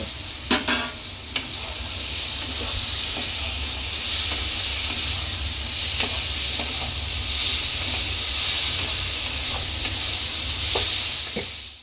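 Chana dal fritters simmering in a spiced pan, with a steady broad hiss and sizzle throughout and occasional stirring clinks, a few sharper knocks at the start; no talking.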